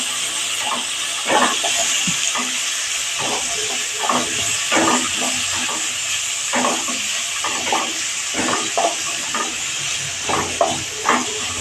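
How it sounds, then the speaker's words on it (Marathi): Chopped onion sautéing in a pan for vermicelli upma, a steady broadband sizzle with repeated scraping stir strokes throughout, fairly close and continuous with no talk. "नंतर कांदा हे आपण चांगलं परतून घेणार आहोत"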